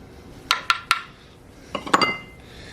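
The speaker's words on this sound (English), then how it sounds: "Now we're going to mix in 2/3 cup flour." Oatmeal pancake batter being mixed with flour and baking powder, heard as a few quick clinks of a utensil against a bowl in two short bursts, close and fairly quiet, without speech.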